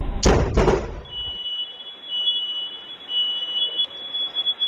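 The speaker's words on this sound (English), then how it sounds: "her fire alarm goes off" A home smoke alarm sounds a steady, piercing high-pitched tone after two loud thumps at the start, continuing without a break in a quiet house.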